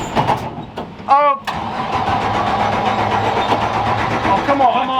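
A NASCAR stock car driven on the road sustains a loud, rough engine drone with steady mid-pitched rumble, close and dominant; a voice briefly shouts over it near the start.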